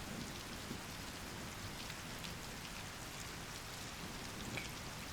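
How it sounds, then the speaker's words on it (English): Heavy, steady rain pours down in a continuous dense hiss, close and even throughout with no other sounds. "And then a heavy, disgusting rain pours down."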